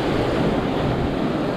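Ocean waves crashing on a rocky shore at Little Bay in Sydney during wind and rain, a loud continuous surf roar mixed with heavy wind buffeting the microphone, no speech.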